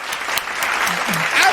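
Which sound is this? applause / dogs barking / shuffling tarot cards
applause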